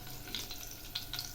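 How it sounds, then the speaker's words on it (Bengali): Black cumin seeds and slit green chillies sizzle lightly in hot oil in a pan, a steady, soft, close hiss with faint crackles and no talking. "এগুলি হালকা করে ভেজে নেব।"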